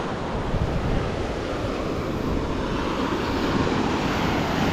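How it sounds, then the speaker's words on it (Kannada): Ocean surf rolls steadily onto the sand at Majali Beach, a continuous broadband wash of breaking waves with some wind rumble, close and fairly loud throughout with no voices. "ಅಲೆಗಳು"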